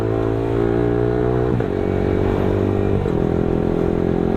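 A Yamaha R15M motorcycle fitted with an aftermarket exhaust revs loudly and steadily close by, its engine tone stepping up twice in clear shifts, with no voices.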